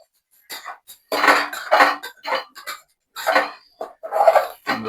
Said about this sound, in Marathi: आता ह्यालाही आपल्याला थोडस छानपैकी परतून घ्यायचं आहे या व्हेजेस मध्ये तांदळाला